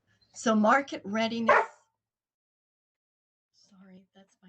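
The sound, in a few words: dog barking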